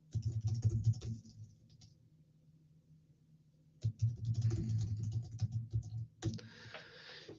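Computer keyboard typing in a chat window during an online gaming and crypto stream, rapid clattering keystrokes in bursts with a quiet pause in the middle, fairly close and with no voices over it.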